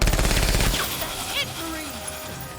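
Rapid machine-gun fire in the video game Menace, a loud dense burst of shots that stops abruptly, followed by quieter game sounds and a short whistling effect, with a voice talking underneath.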